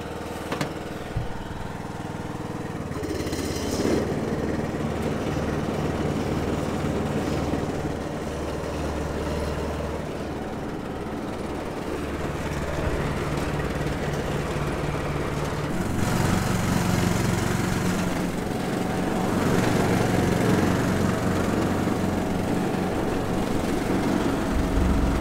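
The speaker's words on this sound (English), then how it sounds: "So the lawnmower is working." A lawn mower engine runs continuously outdoors for about twenty-five seconds, a steady loud drone that surges a little partway through, with no voices over it.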